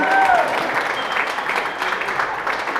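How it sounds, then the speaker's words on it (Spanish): Steady applause from a crowd, clapping throughout without a break, fairly loud and close. "Un aplauso nuevamente para él."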